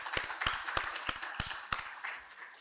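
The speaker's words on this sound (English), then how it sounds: "Let's please give them a round of applause once again." Conference audience applauding the discussants and presenters, a fairly faint round of scattered claps close together that thins out and fades within a few seconds.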